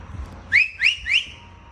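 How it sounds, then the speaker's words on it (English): Three sharp, rising whistle blasts blown as a safety signal in quick succession, loud and close, over a low background rumble. "We might blow a whistle."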